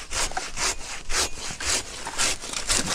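A hand saw cuts through a fallen cedar log on an overgrown abandoned trail, with brisk regular back-and-forth rasping strokes, close and loud, about three strokes per second.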